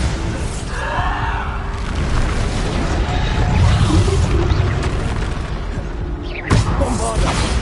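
A Bombarda blasting spell detonates in Hogwarts Legacy, with booming explosive bursts and rumbling debris over a busy game soundscape, then a sharp crack near the end.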